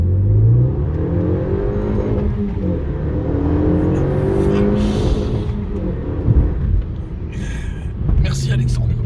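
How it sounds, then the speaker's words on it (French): A Renault Megane 3 RS Trophy engine pulls up through the revs in steady rising sweeps, fairly close and loud, with a brief lift and another climb near the end, voices talking over it. "Allez, on va leur montrer une petite accélération."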